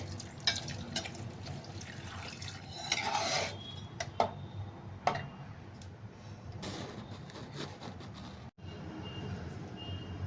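Washed rice and toor dal poured into hot water in a cooking pot for spiced masala khichdi, with clinks of a vessel and utensil, light splashing and pouring over a steady simmer, close and moderately loud.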